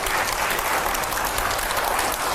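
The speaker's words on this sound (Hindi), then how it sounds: "जोरदार तालियां" Loud, dense applause from a crowd, steady clapping throughout with no pauses.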